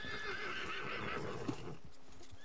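A horse in the video game Red Dead Redemption 2 gives a close, wavering whinny that fades out, with soft hoof clops and game ambience underneath and no talking.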